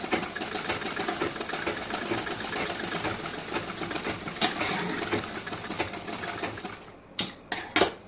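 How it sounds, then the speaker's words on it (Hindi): A domestic sewing machine stitching tucks on a blouse makes a steady, rapid mechanical whirr of needle strokes, close and continuous, then stops near the end, leaving a few sharp clicks and knocks. "इस तरीके से हमें स्टिचिंग करनी है टक्स की, यहाँ की स्टिचिंग"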